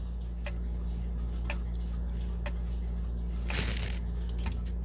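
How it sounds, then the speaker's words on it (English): A tubular-chime grandfather clock with five tubes ticks steadily about once per second, crisp and close over a constant low hum, with a brief rustle partway through. "Just stop talking for a second so you can listen to the tick."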